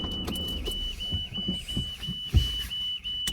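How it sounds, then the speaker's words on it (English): A thin electric whine from a car power window motor runs steadily throughout, dipping rhythmically, over rumbling road noise and a few knocks. "Close this window a bit because that is quite loud."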